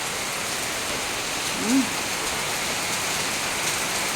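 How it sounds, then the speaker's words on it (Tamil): Heavy rain pours steadily without wind or thunder, a dense, even hiss of drops hitting surfaces, with a faint brief voice-like sound partway through. "மழை சாத்தி தள்ளது பாருங்க எப்படி பெய்யுதுன்னு பார்த்தீங்களா"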